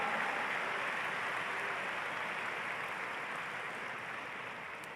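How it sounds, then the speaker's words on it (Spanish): A large congregation applauds at a church congress during a pastors' panel, a soft, even wash of many hands clapping at a distance that slowly fades. "un fuerte aplauso a estos campeones"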